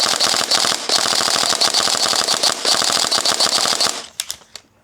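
An airsoft MP5 fires in burst mode, a loud, rapid mechanical rattle of shots running continuously for about four seconds before stopping, followed by a few faint clicks.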